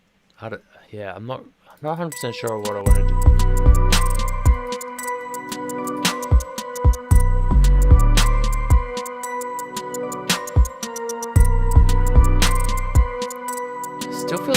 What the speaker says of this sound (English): Still feel like that bell is too loud, that metal rim one.